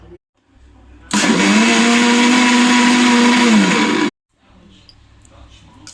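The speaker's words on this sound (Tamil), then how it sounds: "இப்போ மிக்சியில் அடிச்சுக்க போகிறோம்" A mixer grinder blends a palm fruit (nungu) and tender coconut sherbet with sugar and milk, running as a loud, steady whirring roar for about three seconds after a quiet start, then cutting off abruptly.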